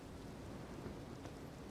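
Rain in the video game Elden Ring, a steady, faint wash of falling rain with soft low rumble, continuous and even, with no voices.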